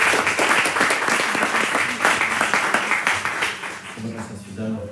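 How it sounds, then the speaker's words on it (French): Audience applause at a public talk, steady clapping from a gathered crowd that fades toward the end as voices come up beneath it. "On peut l'applaudir."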